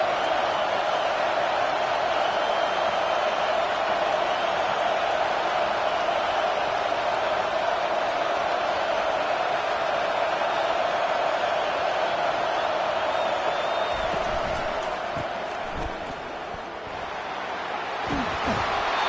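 A stadium crowd at a Clemson vs Texas football game gives a steady, dense roar throughout, with a broadcast commentator talking over it and a few thumps near the end.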